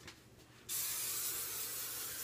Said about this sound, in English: then I just spray my whole entire head